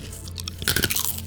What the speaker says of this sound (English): Crunch noise, please.